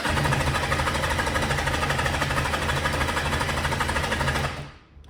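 A Kawasaki Zephyr 750 motorcycle engine cranks on choke with a steady, fast mechanical chugging and clatter that runs loud and even, then cuts off abruptly near the end.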